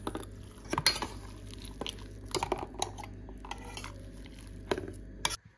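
Boiled potatoes being mashed by hand, with irregular scraping, soft thuds and light metallic clinks against a vessel, close and fairly quiet, alone without talk.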